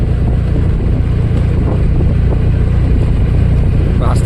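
Motorcycle ride along a village road past potato fields, a steady low engine drone mixed with heavy wind rushing across the microphone, loud and continuous, with no voices.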